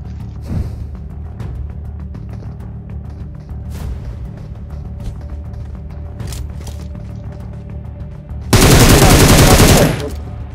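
Gunfire in the battle royale game BGMI, a quiet scene of faint rumble and scattered clicks ending in a loud, dense burst of rapid automatic fire lasting about two seconds.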